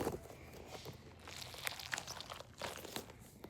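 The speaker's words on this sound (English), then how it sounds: "Can somebody tell me why my cheese makes this noise?" A cheese-shaped foam squishy toy is squeezed close by, giving soft crinkly, crunchy squelches in uneven bursts, quiet overall with faint background noise.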